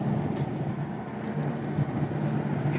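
A Porsche Taycan S electric car drives on a race track with a low, steady hum and a faint synthetic whine that swells gently, heard from inside the car with no talking.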